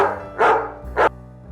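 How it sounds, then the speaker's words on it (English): A dog barks twice in a read-aloud Christmas story, two short close barks over a soft background of music. "Even their dog, Rudy, was especially happy at holiday time"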